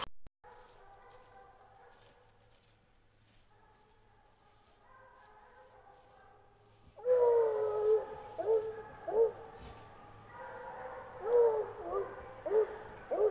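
Bear-hunting hounds, just turned loose after a bear, bay and howl in a loud, overlapping chorus of drawn-out cries that begins abruptly partway through, after a stretch of quieter distant calls.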